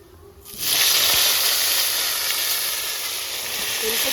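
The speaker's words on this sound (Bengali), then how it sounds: "মাছ ভাজার তেলে ফোড়ন দিয়ে দেবো, গোটা জিরে আর শুকনো লঙ্কা" Whole cumin and dry red chillies hit hot oil left over from frying fish, setting off a sudden loud sizzle that settles into a steady, close, hissing fry after a quiet moment, with no speech.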